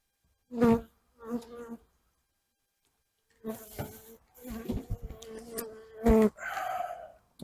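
Honeybees buzzing close by during a winter oxalic acid varroa treatment of the hive: uneven bursts of droning buzz rising and falling, with pauses between, fairly loud and near.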